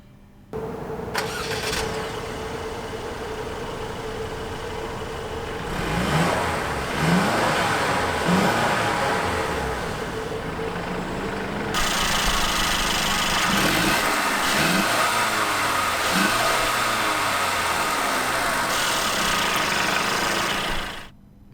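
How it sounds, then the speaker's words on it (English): A 2017 Mercedes-Benz E-Class E300 engine cranks and starts, briefly revs, then settles into a steady idle that continues for a long stretch, close and clear. "But let's start up this engine for you."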